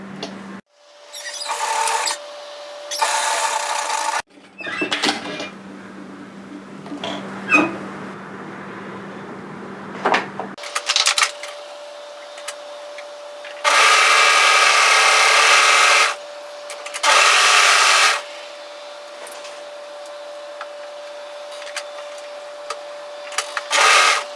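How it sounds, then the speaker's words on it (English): An overlocker finishes a fabric edge on a bomber-style varsity jacket, running in several loud, even bursts broken by pauses and quieter handling, with a steady hum. "go to your overlocker and tidy that edge and repeat on the other side"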